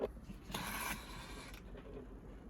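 Sewing machine stitching a fabric leaf, played sped up: a fast, soft mechanical whir rises for about a second, then fades into low quiet clatter.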